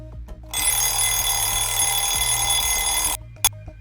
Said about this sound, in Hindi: पहले रिंग में किसी ने फोन रिसीव नहीं किया।